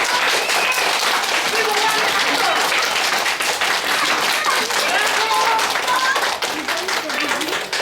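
An audience at a kindergarten theatre show in Warsaw bursts into loud, steady applause, many hands clapping densely and continuously throughout.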